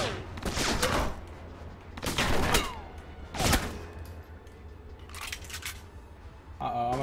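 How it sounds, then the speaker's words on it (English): Gunfire in the action game Alpha Protocol: several loud, rapid bursts of shots about a second apart, the last volley weaker, over steady low game ambience. "Who is even shooting me?"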